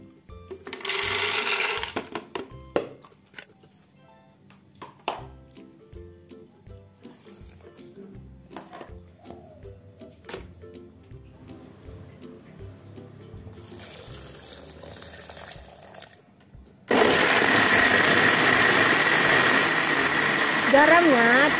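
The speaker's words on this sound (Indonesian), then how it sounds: "lalu kita membuat sambelnya. Cukup mudah ya teman-teman, kita blender saja." An electric blender grinds sambal sauce for karedok, a loud steady whirring that starts abruptly near the end and runs alone after earlier talking and clattering kitchen sounds.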